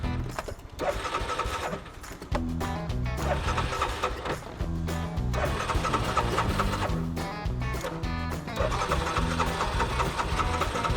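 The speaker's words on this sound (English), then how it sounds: "It just does not want to start after it's sat." Toyota 4Runner engine cranking and straining to start after sitting, a close, rhythmic churning that stutters and repeatedly surges without catching.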